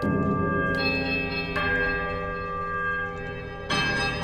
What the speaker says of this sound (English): Quiet melodic chimes from all 3 bells before their discordant horns meet in one powerful rushing rise of sound